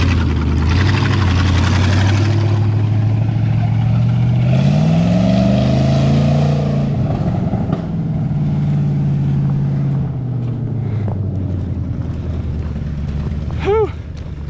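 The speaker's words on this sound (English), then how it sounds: "That 360 is running, y'all." A 1968 Ford F250 with a freshly installed 360 FE V8 runs with a deep, loud, close rumble that rises and falls as it revs, a voice briefly heard over it.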